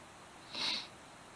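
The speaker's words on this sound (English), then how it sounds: "And excuse my sniffles." A single short, airy sniffle, close and soft, in an otherwise quiet room.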